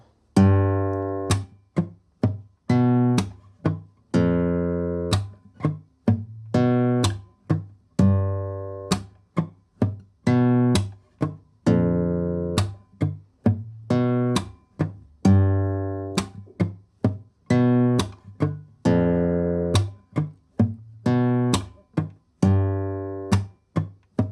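A slow acoustic guitar groove alternates ringing notes with sharp percussive slaps and muted thumps, repeating in a steady, close, deliberate rhythm.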